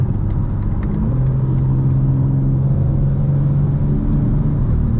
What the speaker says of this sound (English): Yeah, that intake noise sounds great.